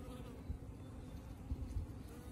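Honey bees from a tiny, weak colony buzz softly and steadily at close range, with a few louder low bumps where bees brush near, and no voices.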